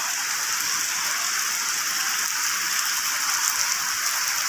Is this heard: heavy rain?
yes